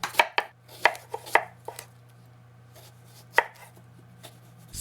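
A knife chopping cabbage on a cutting board for ketchup, with close, crisp irregular chops, several in quick succession and then a pause before a single louder cut.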